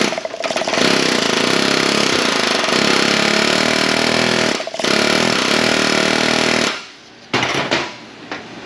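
A power tool whirs steadily while tightening bolts during a suspension rebuild on a Ford F250 with the 6.7 engine, running loud and close for about seven seconds before cutting off, followed by a short second burst.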